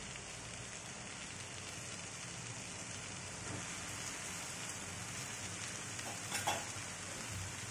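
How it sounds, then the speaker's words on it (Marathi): Cooked biryani rice being mixed for veg pulao in a pan: a dense, even hiss and soft rustle of grains turned over, fairly faint and steady, with a small knock near the end. "आता हा राईस आपण छान असा मिक्स करून घ्यायचा आहे"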